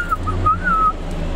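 Someone whistles a brief wavering tune, clear and close, over a low background hum.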